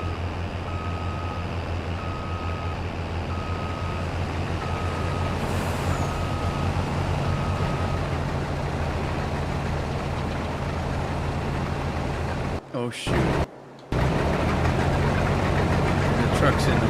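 Truck engine in Farming Simulator 22 drones steadily throughout, with a repeating reversing beep early on and a brief dropout near the end; a voice speaks briefly over it.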